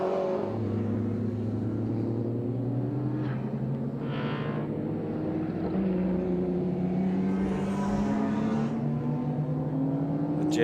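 A 5.3-litre V12 Jaguar and a 5.8-litre Cleveland V8 Ford Falcon, Group A and Group C heritage touring cars, race at Winton; engines drone and rise steadily in pitch, loud and sustained, with no voices.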